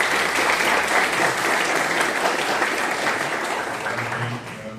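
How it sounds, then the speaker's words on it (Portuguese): Audience at a student integration week presentation applauding a tutor, steady dense clapping from a room of people that holds through and begins to ease near the end, with faint voices underneath. "por favor, palmas."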